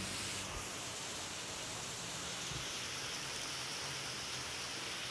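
Heavy rain falling in Pokhara, a dense, even wash of steady noise with no distinct drops or voices, constant in level from start to finish.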